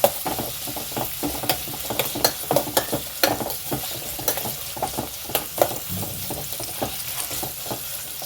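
A tempering for okra pulimunchi crackles and sizzles in a pan, close up, with a continuous hiss broken by many quick popping spits and clattering stirs in an irregular rhythm.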